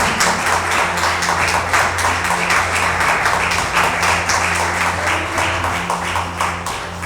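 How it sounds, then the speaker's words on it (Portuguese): A church congregation applauds together during a Portuguese-language sermon, a dense, steady wash of clapping that fills the room for several seconds with a low organ or keyboard drone underneath. "Você pode aplaudir a Ele, porque Ele que é conosco."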